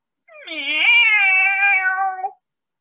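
A person imitates a cat's meow with a single drawn-out, rising-then-level call lasting about two seconds, loud and close, with nothing else heard around it.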